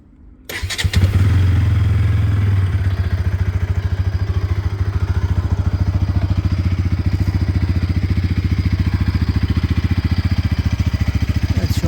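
A Pulsar NS 200 motorcycle cranks and fires up, then settles into a steady, loud, close idle with an even rhythmic engine pulse that carries on to the end.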